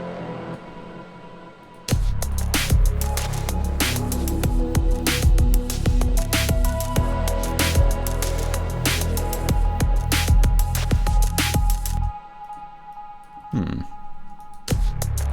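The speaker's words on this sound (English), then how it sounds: "May have overdone it with the phaser" Busy electronic music with pounding drums and synths, the tone sweeping and swirling with a heavy phaser wash; it drops out briefly near the end, then resumes.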